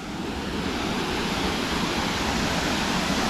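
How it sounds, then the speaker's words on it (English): Fast floodwater pours over rocks at a waterfall near a campground, a loud, dense, unbroken roar of rushing water heard up close, with no talking. "The water's coming down very fast."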